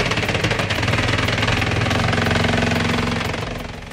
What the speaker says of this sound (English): Wow, look at this wood splitter. It's really impressive with its massive power.